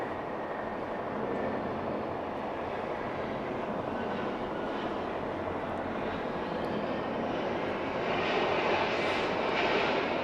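An Air Canada airliner at Atlanta airport roars with a steady, broad engine rumble that holds throughout and swells slightly near the end, heard from a spotting position at night.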